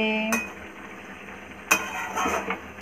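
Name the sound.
stirring pui shak vegetable curry in a pot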